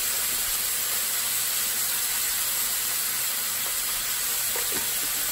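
Ground beef browning in a pan with seasoning salt and Italian seasoning, giving off a loud, unbroken sizzle and hiss heard up close, with faint clicks near the end.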